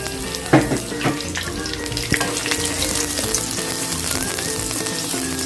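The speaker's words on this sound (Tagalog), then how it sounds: "Lalagay ko na yung sibuyas. Nagsosote tayo." Onions sautéing in hot oil in a pan while cooking Filipino kare-kare: a loud, steady sizzle close by, with a few sharp stirring clatters near the start.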